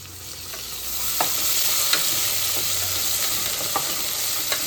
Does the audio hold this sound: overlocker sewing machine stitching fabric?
no